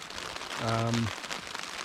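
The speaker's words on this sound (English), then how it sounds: "Well, the rain is here." Rain falls steadily on a backpacking tent in Algonquin's backcountry, a close, even patter and crinkle that holds throughout, with a brief tonal hum rising in the middle.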